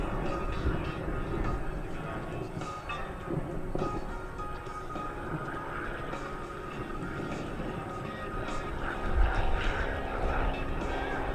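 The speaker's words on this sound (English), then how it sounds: "today's flight he will maneuver the aircraft under G-forces ranging from -1 to 8" US Navy F-18 Hornet jet flying an air show demonstration gives a distant, continuous roaring rumble that swells slightly near the end, with a public-address voice talking over it.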